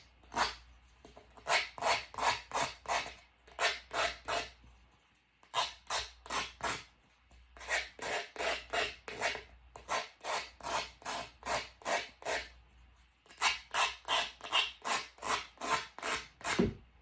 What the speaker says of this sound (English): I'm going to distress these edges.